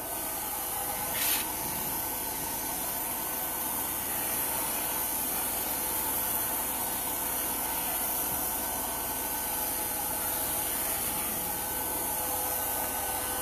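A Wagner home decor paint sprayer hisses steadily as it sprays paint, a continuous broadband spray with a faint motor hum running unbroken throughout, close and fairly loud, with no voices.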